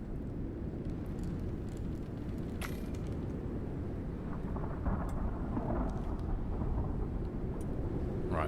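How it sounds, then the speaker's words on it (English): A thunderstorm in the survival video game Icarus rumbles as a constant heavy roar of rain and wind, loud and dense throughout, with a sharp crackle partway through. "We'll just wait out this storm as well. Looks like quite a bad one."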